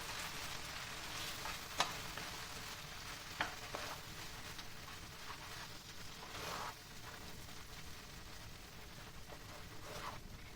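Butter sizzles faintly in a pan for pasta sauce, a soft steady crackle with a few sharp clicks and scrapes of utensils.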